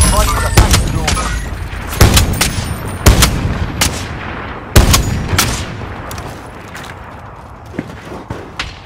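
Gunfire in the battle royale video game Warzone Rebirth: loud, sharp shots in irregular bursts, several heavy reports standing out among rapid smaller cracks, with game voice callouts heard in between.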